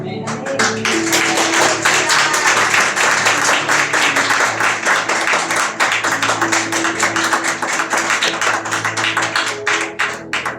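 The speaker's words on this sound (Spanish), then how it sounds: "Denle un fuerte aplauso al Señor" A church congregation gives sustained, loud applause, dense clapping that fills the room steadily for about ten seconds with faint voices mixed in.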